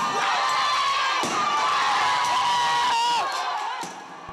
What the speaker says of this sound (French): Dans la foule désorganisée, de jeunes casseurs se déchaînent.